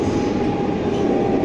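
Steady low rumble and hum of a moving Russian passenger train, carriage No. 0271, from inside the car; continuous broadband noise with no voices.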